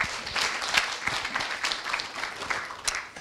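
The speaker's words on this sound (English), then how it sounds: "Let's clap again for him." A church congregation applauds together after a closing prayer, a steady wash of many hands clapping at fairly low level, continuous throughout with no speech over it.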